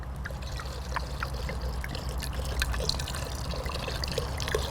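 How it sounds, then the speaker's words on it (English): Beaujolais wine is poured into a cooking pot, giving a soft, continuous trickle and splash over a low background rumble. "so now I'm going to add in my Beaujolais."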